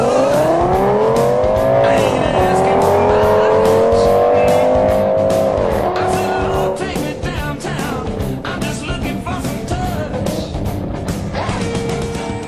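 NASCAR race cars in a video game, a Ford among them, roar past with loud rising and falling engine pitch and tire squeal, continuous and close, with no talking.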